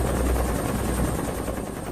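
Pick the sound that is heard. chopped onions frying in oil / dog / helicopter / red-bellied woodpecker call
helicopter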